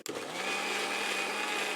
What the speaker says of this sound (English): And now let's blend it up again.